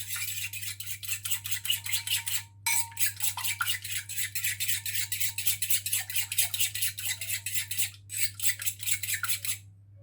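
A spoon or whisk mixes muffin batter of melted butter and milk in a bowl, making quick rhythmic scraping and clinking strokes that run close and steady, with two brief pauses.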